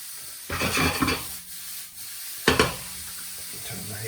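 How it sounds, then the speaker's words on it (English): Cauliflower rice tipped into a hot pan, giving two bursts of loud close sizzling and stirring separated by a quieter pause, with no talk over it. "Just going to get this cauliflower rice in the pan now."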